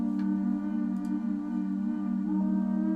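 The Evil Frog synth pad from Expand plays alone for a beat, a sustained, steady chordal drone with soft shifting overtones, quiet and even throughout.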